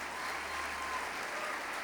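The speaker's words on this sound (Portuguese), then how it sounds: "Você pode aplaudir a Jesus bem forte?" A church congregation applauds in a steady, dense wash of clapping, loud and continuous throughout with no voices standing out.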